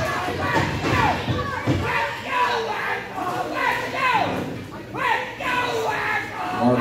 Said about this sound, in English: We've got fans cheering for the Riot Squad, and we got fans cheering for Brandy